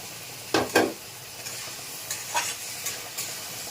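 A fish head fries in a pan, the oil sizzling softly while a few sharp bursts of stirring and spattering rise and fade.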